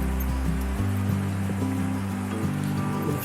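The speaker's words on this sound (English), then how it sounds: "Right down by the creek here" A creek flows at the bottom of a slope as a steady, close wash of running water, with low droning tones underneath and no talking.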